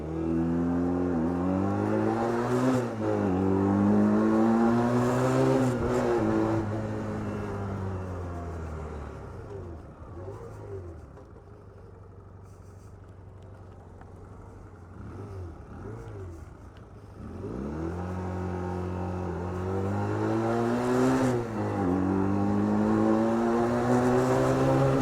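An AJS Regal Raptor 125cc motorcycle rides around the block, its engine rising and falling through repeated revs and gear changes, fading away in the middle stretch before coming back close and loud.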